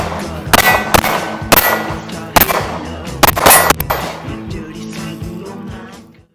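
Sharp shots from a Taurus G3C pistol fire one at a time at irregular spacing, each a loud crack followed by a ringing clang and echo over steady background noise.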